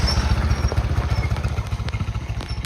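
A scooter engine putters with a rapid, pulsing low throb while riding a rough off-road path, with some rattling clatter over the bumps, close and steady.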